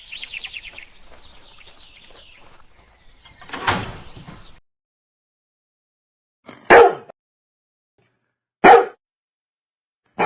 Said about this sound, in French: veuillez calmer votre chien